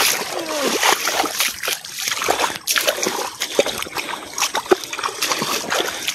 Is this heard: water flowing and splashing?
yes